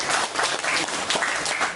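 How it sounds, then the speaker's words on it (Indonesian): Short burst of audience applause for a world champion during a sales presentation of a Galaxur necklace, dense clapping at close range with no talk over it. "Kita beri tepuk tangan juara dunia."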